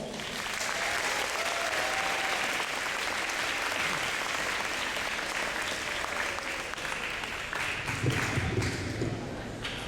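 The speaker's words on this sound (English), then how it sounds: "Please give a round of applause for Mr. Rick Kagawa." A school event audience at a financial literacy gathering for Anaheim Union High School students gives a sustained, even round of applause, dense clapping from many hands with faint voices mixed in.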